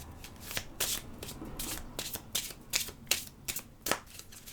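Tarot cards are shuffled by hand for a card reading, producing a steady series of crisp riffling and slapping bursts, close and clear, with no talking over them.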